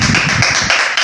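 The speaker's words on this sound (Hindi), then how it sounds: "तालियां। तालियां।" Studio audience clapping on a television talk show, a short, loud burst of hand claps that cuts off abruptly.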